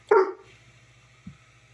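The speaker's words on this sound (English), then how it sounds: "got the dog to start barking" A dog gives one sharp, loud bark, then a faint second yip about a second later, over a steady low hum in a workshop.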